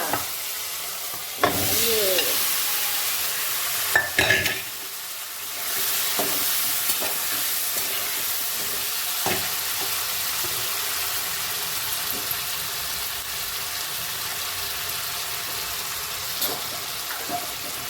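Potatoes sizzling in a pan for a Maharashtrian potato bhaji, with a loud splash of frying as they go in, followed by a steady sizzle and occasional scrapes of stirring.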